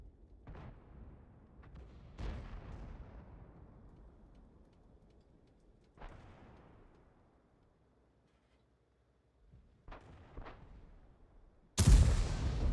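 Tank gunfire in World of Tanks, a TD on a Panzer IV chassis: several sharp booming shots with decaying tails spaced across the clip, ending in a loud, dense blast, no talk.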